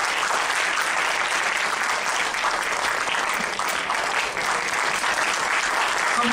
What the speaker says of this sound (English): Can we have a big round of applause for our Honorable Chief Guest?